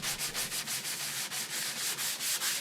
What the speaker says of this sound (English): we can switch to some extra coarse 40 grit sandpaper to flatten off the peaks from our excavation